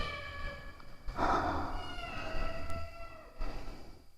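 A real cat at a white villa on the slopes of Mount Bromo gives a drawn-out meow, fairly near and moderately loud over a faint background hiss, with a second shorter call toward the end.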